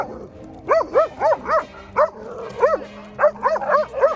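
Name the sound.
dog Max barking and whimpering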